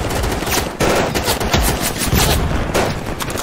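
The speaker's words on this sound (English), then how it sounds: "We are going to go with a heavy MG." A heavy machine gun in the World War II shooter Easy Red 2 fires sustained, dense bursts up close, with loud rapid rattling across the whole stretch and a brief gap early on.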